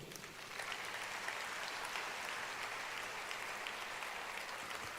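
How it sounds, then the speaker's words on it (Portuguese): A church congregation applauds during a worship service, a dense steady patter of many hands clapping at moderate distance, sustained evenly throughout. "e pode aplaudir o Senhor."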